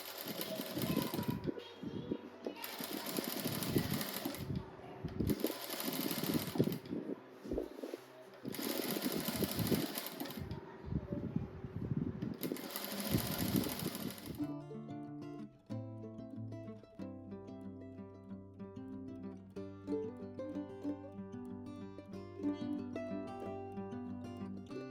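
A sewing machine stitches bias binding around a flower rug in several bursts of rapid, close mechanical rattling separated by short pauses, followed by background music.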